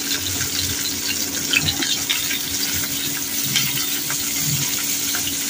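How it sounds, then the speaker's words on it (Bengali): Small pieces of eggplant sizzle steadily as they are eased into smoking-hot oil in a home kitchen, a continuous broadband frying hiss with light crackles and pops, fairly close, with no talking. "তেলের মধ্যে বেগুন গুলো আস্তে আস্তে দিয়ে দিব"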